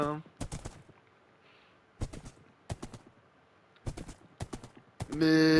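Skeleton horse hooves in a Minecraft desert: several short clusters of sharp clopping steps in quick bursts, separated by quiet gaps, followed by a sustained tonal game sound at the end.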